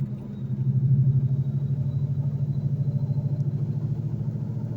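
A cold 2004 Procharged Mustang Mach 1 V8 idles steadily up close, its deep, loud rumble pulsing in a fast, even lope throughout with no talk over it.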